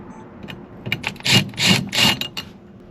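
A power tool zaps bolts off a BMW M2 steering wheel in a few close, loud whirring bursts with ratcheting rattle, separated by short pauses.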